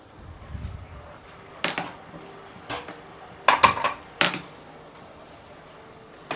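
Metal pots and a kadai clanking on a home kitchen gas stove while switching burners, a few sharp close clinks and scrapes spaced out over a low background hum.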